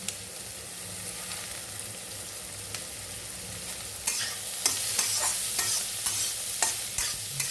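Slit green chillies and bitter gourd frying in a pan, with a steady oil sizzle throughout and scraping stir strokes growing louder and more frequent in the second half, no talking.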